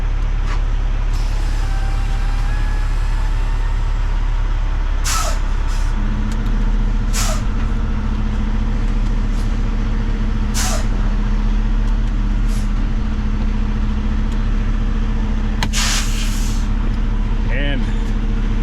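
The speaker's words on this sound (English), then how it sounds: "We're going to hit our parking brake, and then we're going to get into reverse, back up a little bit" A flatbed semi truck sets its parking brake and shifts into reverse: a loud, steady diesel idle rumble broken by several sharp air-brake hisses, with a short rising mechanical squeal near the end.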